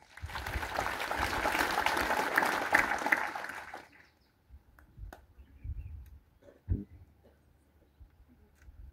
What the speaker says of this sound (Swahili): Hebu tupigieni Yesu makofi.